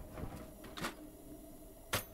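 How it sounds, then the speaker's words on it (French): A drawer is searched in the survival video game The Long Dark, with a few quiet wooden slides and knocks spaced apart and one sharper clack near the end, faint and close with no talking. "Fouiller l'autre tiroir."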